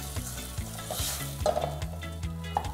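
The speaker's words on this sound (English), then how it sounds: "They're frying lovely." Vegetables sizzle steadily in a hot pan, with a constant crackling fry and occasional scraping stirs, close and alone with no voices.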